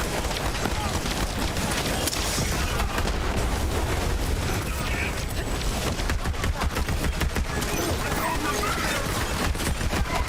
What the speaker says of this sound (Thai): โอ้ยิงหกนัดยิงประมาณสิบสองนัดตายแล้วอ่ะ